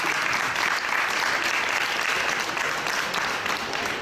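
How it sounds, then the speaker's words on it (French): Audience applause at a live acoustic showcase in a cultural space in Rochefort, loud and sustained dense clapping filling the whole stretch, with faint crowd noise underneath. "On peut applaudir encore plus fort s'il vous plaît."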